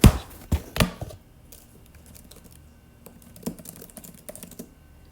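A few loud taps open, then lighter, irregular keyboard typing follows at close range, with scattered quiet keystrokes and brief pauses.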